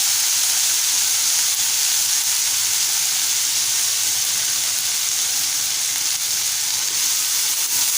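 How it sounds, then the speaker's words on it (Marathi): Cluster beans sauté in a hot pan with turmeric and Malvani masala, producing a loud, unbroken sizzle and hiss that holds steady and close throughout, with no voices. "छान असं परतवूया।"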